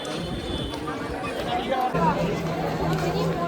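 Crowd noise in the Kashi Vishwanath temple corridor: a steady murmur of many people chatting and moving, heard under a nearby voice speaking.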